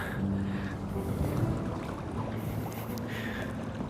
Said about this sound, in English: Oh, this wind is really cold.